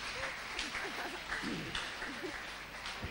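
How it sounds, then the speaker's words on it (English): A church congregation gives a clap offering, with diffuse, sustained applause spread through the room and voices murmuring underneath. "Let us give Jesus a wonderful clap offering on behalf of all this testimony"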